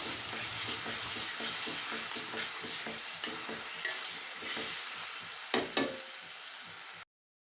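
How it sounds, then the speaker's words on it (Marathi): Wood apple pulp cooks in ghee in a pan with a soft, steady sizzle and faint stirring scrapes. Two sharper clatters come near the end, and the sound cuts off abruptly. "कवठ हे थोडा वेळ शिजवून घ्यायचं तुपामध्ये।"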